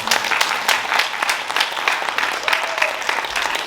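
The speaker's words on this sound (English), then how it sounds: "How about another round of applause for our great dreamers?" Steady applause from an audience at a community event, a dense wash of many hands clapping continuously at close range for the whole stretch with no pauses.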